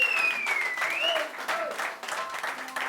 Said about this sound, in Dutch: Mag ik voor allerlaatste keer een ganz goed applaus voor Ingrid